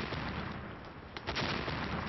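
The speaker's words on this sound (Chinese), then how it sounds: "听这枪声" Gunfire from a battle against a puppet-army battalion in a war drama: a dense, steady crackle of shots and blasts heard at a distance, with no talk.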